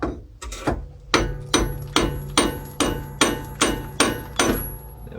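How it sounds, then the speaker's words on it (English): A hammer strikes the metal flange of a brake backing plate about a dozen times in a steady, evenly spaced rhythm, each blow sharp, close and ringing briefly before the next. "just tap back the flange with a hammer"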